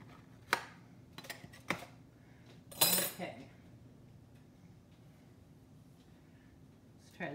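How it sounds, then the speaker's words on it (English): A knife is run around the inside of a bowl of ground turkey meatloaf, giving a few short clinks and one longer scrape against the bowl, close up, with brief speech nearby. "So we'll just run the knife across the sides."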